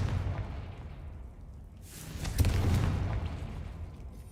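A Confringo blasting spell bursting in Hogwarts Legacy, a dull booming explosion swelling up and rumbling out after a low muffled buildup, alone without talk.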